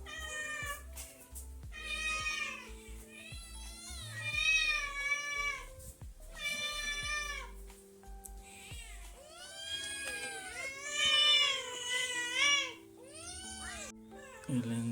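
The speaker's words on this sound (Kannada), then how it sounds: "ಇವೆಲ್ಲ ನಮ್ಮ ಮನೆ ಬೆಕ್ಕುಗಳು." Several house cats at an old village home meow repeatedly, overlapping tonal cries of varying pitch close to the microphone, with no talk.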